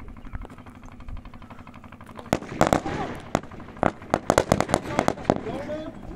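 Rapid bursts of gunfire ring out at a firing range during a section move-and-fire demonstration at a CATC camp, starting sparse and building into dense, sharp, loud reports, with voices talking underneath.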